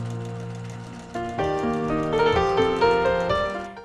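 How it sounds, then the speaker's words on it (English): A sewing machine sews the quarter-inch seam joining the ends of a fleece Christmas stocking trim. It hums steadily up close and grows louder and higher in pitch as it speeds up, with no talk over it. "take the 2 ends, right sides together, sew a 1/4 inch seam allowance."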